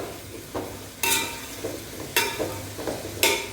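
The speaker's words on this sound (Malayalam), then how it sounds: "സവാള നന്നായിട്ട് വഴറ്റിയെടുക്കണം." Chopped onions sauté in hot oil for a traditional Lakshadweep biryani, with a low sizzle under sharp stirring strokes of a spatula landing roughly once a second, close by.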